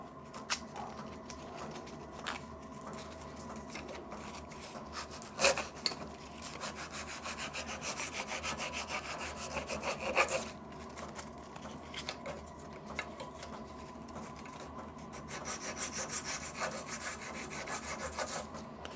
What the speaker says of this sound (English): take any burrs off the outside, any little rags.